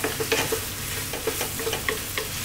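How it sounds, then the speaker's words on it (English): Black beans and vegetables sizzle and fry in a pan over fairly high heat, with a steady hiss broken by repeated scraping stirs of a utensil through the mixture, close and alone without speech. "Let's go for another 3 to 4 minutes, stirring all the time."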